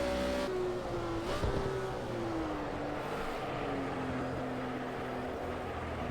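A BMW race car in Project Cars 2 drones along at the Dubai Autodrome Club circuit, its engine note sliding and shifting pitch steadily at moderate volume, with no voices over it.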